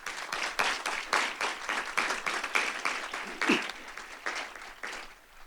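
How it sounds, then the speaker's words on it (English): A modest audience at a faculty and staff assembly claps for an introduced guest, the individual hand claps clearly distinguishable in an uneven rhythm before tapering off near the end. "please give Dr."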